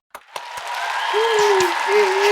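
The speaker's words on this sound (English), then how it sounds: "Let's give a round of applause for Myron Welik" A show audience applauds its co-host, a broad wash of clapping that builds and holds steady, with a sustained voice-like tone or cheer riding above it.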